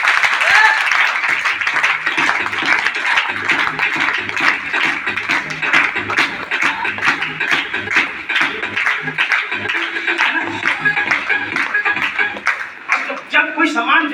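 An audience at a lively Indian stage program claps steadily, a dense, continuous wash of applause that holds for the whole stretch, with faint tones and voices underneath.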